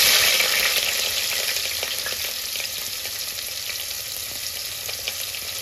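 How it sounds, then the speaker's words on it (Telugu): Cumin seeds fry in hot oil in a pan with a loud, dense, crackling sizzle that runs steadily throughout, easing slightly in intensity. "ఇది కొంచెం ఫ్రై అవ్వాలి, మంచి వేగాలన్నమాట."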